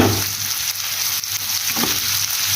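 Chicken liver fries in oil in a pan with a loud, continuous close sizzle and occasional stirring scrapes.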